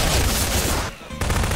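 Rapid gunfire bursts from an SCP creature in the video game Garry's Mod, loud and dense, cutting out briefly for a split-second gap before resuming.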